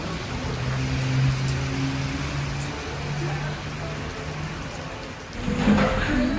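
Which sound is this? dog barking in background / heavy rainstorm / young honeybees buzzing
heavy rainstorm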